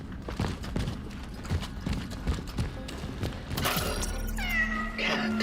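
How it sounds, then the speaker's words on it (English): A cat meowing in the Cronos: The New Dawn video game, a couple of wavering meows near the end after a stretch of rhythmic footsteps and clattering game noise. "Kitty cat."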